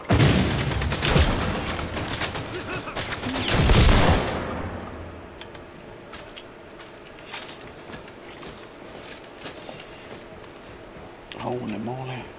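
A grenade blast and a burst of rapid gunfire in a first-person shooter game: dense, loud shots in the opening seconds, then a heavy explosion near the four-second mark that decays into quieter ambience, with a player shouting over it.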